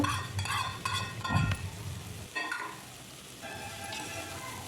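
Oil sizzles and crackles in a pan as roasted moth beans are tipped into the tempering and stirred, with scraping clatters over a steady frying hiss.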